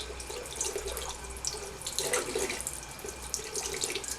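Tap water runs steadily over a potted violet as it is rinsed clean of dust, a continuous close splashing and trickling with no voices.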